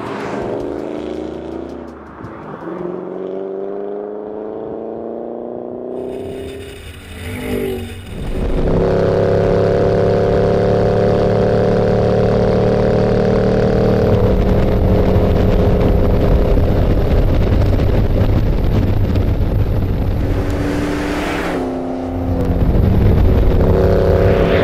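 A 2013 Ford Shelby GT500 engine driven flat out on a high-banked oval, climbing loudly through gears with rising revs and brief shift dips, then holding a sustained roaring tone at speed.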